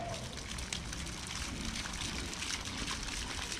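Water running into a rig to rinse out abrasive cleaner, a steady, faint, hissing flow that continues evenly without pause.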